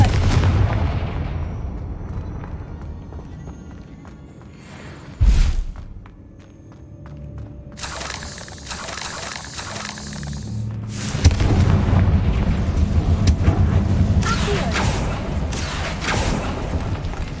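A Confringo explosive spell in Hogwarts Legacy: a sharp, loud blast near the middle, followed by dense crackling and rumbling debris over a continuous game soundscape, with further heavy bursts later.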